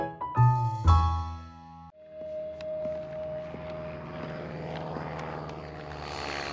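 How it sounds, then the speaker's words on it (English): A propeller airplane skywrites in a Curious George cartoon, droning steadily after a few sharp musical notes at the start. "It's not every day that a monkey sees a plane writing words in the sky."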